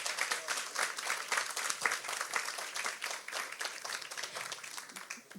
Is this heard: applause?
yes